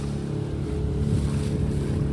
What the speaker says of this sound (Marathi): कसल्या लाटा येतात बघा.